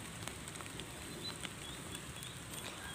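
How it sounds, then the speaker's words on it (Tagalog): Rain falls in a steady, even patter on an outdoor garden setting, a soft continuous hiss with occasional faint drips and no voices. "Umuulan na naman"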